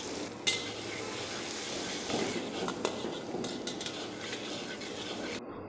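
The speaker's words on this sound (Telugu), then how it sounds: "సన్నగా తరిగి పెట్టుకున్న ఆనియన్స్ కూడా వేసేస్తున్నానండి" Chopped onions and green chillies frying in about 100 ml of hot oil, giving a steady close sizzle with occasional scraping and stirring clinks from a spoon against the pan, no talk.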